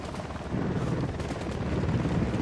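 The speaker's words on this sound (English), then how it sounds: "Helicopter, get down." Helicopter in Ghost Recon Wildlands gameplay, a steady loud rotor drone that swells after a brief quieter start and holds throughout, mixed with dense game noise and possible distant gunfire.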